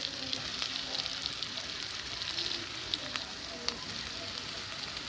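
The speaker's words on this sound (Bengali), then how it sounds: "এবারে জিরে দিয়ে দিলাম তেলেতে, পেঁয়াজ দিয়ে দিলাম" Cumin, onion and ginger paste fry in hot oil, a steady close sizzle with crackling pops throughout.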